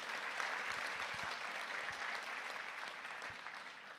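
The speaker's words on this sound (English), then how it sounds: "Please give our performers now a round of applause." Audience applause at a conference opening ceremony and plenary: a steady, dense wash of clapping from many hands, sustained and even throughout, with no voices standing out.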